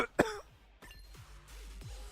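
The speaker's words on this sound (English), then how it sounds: "I've been coughing so much lately" A single sharp cough or throat-clearing burst early on, loud and close, followed by quieter low room noise and faint rustling.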